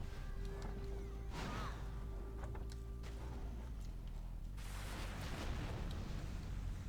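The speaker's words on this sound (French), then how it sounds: "Il y a un canon qui tire." Deep booming blasts from video game cannon fire near a fortress sound over a rumbling low-frequency background, with a broad crash near the start and another surge later on.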